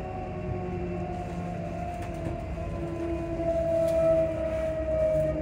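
A train rolls along near Edinburgh Park with a steady low rumble and a sustained whine, building slightly louder toward the end; no one speaks.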